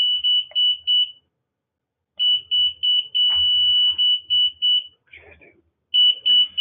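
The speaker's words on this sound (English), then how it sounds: "demonstrate to you guys how well it works and how loud the alert beacon is" A panic alert beacon alarm sounds loud, close, piercing beeps in quick bursts, stopping and starting between short gaps, with faint background voices and thumps in between.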